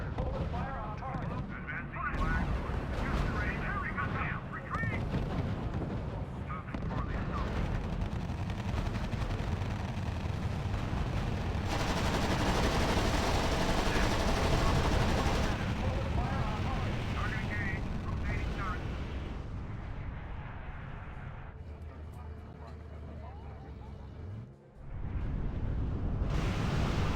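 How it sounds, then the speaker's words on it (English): Dense gunfire and booming artillery in the R.U.S.E. strategy video game, a continuous rumbling barrage of overlapping blasts under a steady battle din, with voices speaking over it. "Squad commander, open fire on target."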